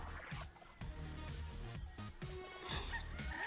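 Young gamecock stags on a game farm cluck and crow in short, close bursts, several birds calling over one another against a quiet background.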